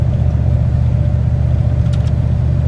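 A 1995 Dodge Ram V8 with a Thrush welded exhaust cruising on a highway, a steady low droning engine and exhaust rumble, close and continuous, with a brief faint hiss near the end.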